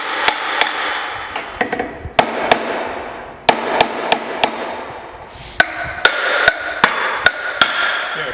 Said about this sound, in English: We use like a pry bar like this. We stick it down in here, just put a little load on it, give it a tap